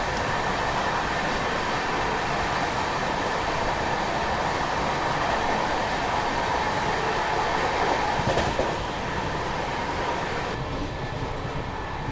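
A long-distance passenger train on the Mysuru to Varanasi route in India rumbles steadily along the rails, with a constant loud roar and faint clatter that barely changes from start to finish.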